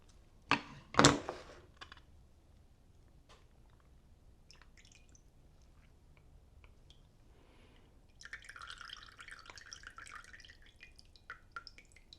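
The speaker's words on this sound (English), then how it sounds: "I think it might not be a bad idea for me to drain off the liquid here." Liquid drained from a tin of wild caught salmon, a couple of sharp clunks from the can at first, then quiet, then a run of soft dripping and trickling near the end, no talking.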